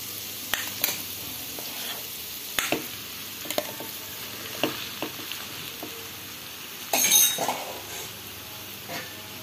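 Mashed boiled potatoes being stirred into a frying vada pav filling in a pan: soft sizzle under irregular spoon scrapes and knocks, plus a brief clink of glass or metal toward the end, no talking.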